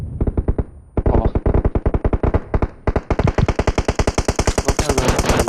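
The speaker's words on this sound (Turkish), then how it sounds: "Uzak sıkıyor, uzak sıkıyor." Rapid bursts of automatic gunfire from a shooter video game crack out loud and close, in quick repeated volleys with a short pause before a longer sustained stream of shots.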